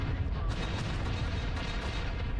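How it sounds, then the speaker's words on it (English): A gunshot from a player's mech in MechWarrior Online lands as a dense, booming blast of fire that fills the short stretch with heavy low rumble, with no talk over it. "that was just a gunshot of mine, just going nowhere thanks to tree"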